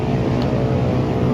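A loud modified motorcycle exhaust (knalpot brong) roars in a continuous, heavy, close rumble at a Jakarta bus stop around midnight, with no pauses.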